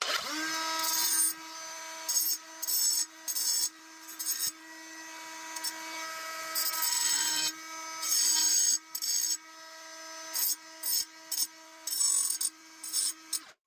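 A small angle grinder fitted with a Diablo 3-inch diamond blade sands and shapes wood in repeated close, loud grinding bursts separated by short pauses, with no talking.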